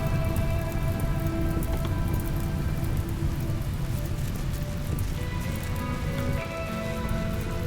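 Rain in the video game RimWorld, a steady patter of drops on surfaces that runs without a break at a moderate, even level, with faint tonal game sounds layered underneath.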